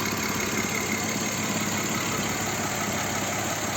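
An Audi Q7 with a VR6 3.6 FSI engine idles steadily up close, a dense continuous drone with a faint metallic clatter from a worn timing chain running underneath.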